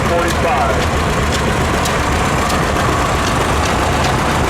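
An antique 1945 tractor engine at a threshing show in Edgerton, Wisconsin, hand-started by spinning its flywheel, runs loud and steady with a close, continuous mechanical rumble and faint periodic knocks, under crowd noise.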